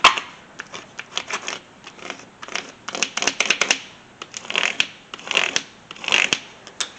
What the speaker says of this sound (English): I'm going to use the flattener here to really make sure that the transfer tape is stuck well to the vinyl.